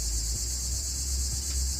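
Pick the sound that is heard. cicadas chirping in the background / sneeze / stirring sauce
cicadas chirping in the background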